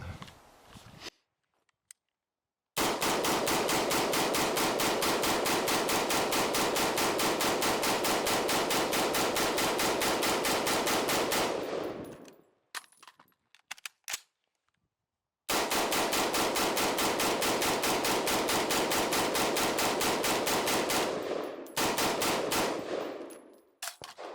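Two long bursts of rapid automatic-style gunfire from a PSA Guardsman rifle, each dumping a full magazine in a dense, loud, continuous rattle of shots, separated by a brief quiet pause with faint handling noise.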